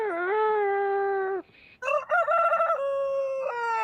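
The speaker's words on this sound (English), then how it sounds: "where's my rooster sound effect?" A rooster crowing sound effect with two loud, close cock-a-doodle-doo calls, the first long and sustained, then a brief pause and a second choppier crow with clucking breaks.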